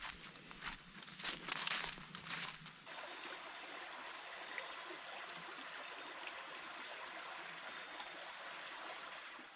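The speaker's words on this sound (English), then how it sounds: "just right by the creek, which is just over here." Creek flowing beside a backpacking campsite in the woods, a steady soft rush of water, with a few seconds of nearby rustling and footsteps at the start.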